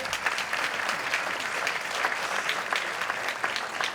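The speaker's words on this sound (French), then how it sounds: "vous pouvez l'applaudir." An audience at a cultural season presentation claps for a municipal culture deputy, a fairly quiet but continuous patter of many hands filling the whole stretch, with a faint murmur of voices in the room.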